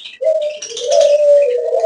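Pet budgerigars, small Australian parakeets kept in a breeding colony, give a near, clear run of warbling whistled calls with rising and falling chirps, loud and isolated without any talk.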